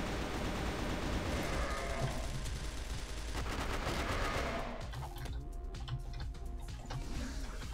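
AK-47 gunfire in the game CF West, a dense burst of rapid automatic shots filling the first half, then thinner scattered shots and clatter over a steady game background.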